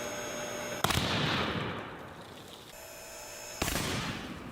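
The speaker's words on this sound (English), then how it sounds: "That looked very similar to the previous explosion." A very high-rated electrical fuse blows apart, throwing orange copper dust. Two sharp, loud bangs about three seconds apart are each followed by a hissing, crackling wash that slowly fades.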